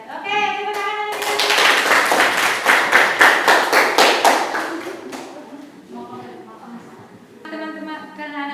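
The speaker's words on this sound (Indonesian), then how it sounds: "Oke, tepuk tangan lagi." A classroom group claps hands together in a steady burst of applause lasting a few seconds, with voices talking before and after the clapping.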